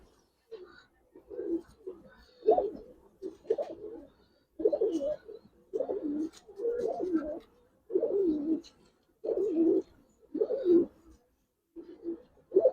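Giribaz pigeons coo in a steady series of soft, throaty calls repeating close by in a loft, each phrase rising and falling with short gaps between.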